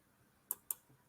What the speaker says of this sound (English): So we'll click this product to add it onto this area.